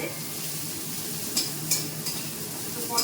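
Pointed gourd pieces fried red in oil in a pan, a steady close sizzle with a few sharp metallic clinks of a spatula against the pan.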